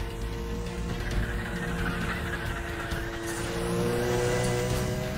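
A Porsche 911 (993) engine in the racing video game Need for Speed The Run, a steady synthetic engine hum with a faint whine holding through the whole stretch, no talking.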